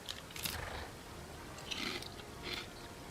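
Crunchy food chewed close to the mic in a few quiet, separate bites spaced about a second apart, with no talking.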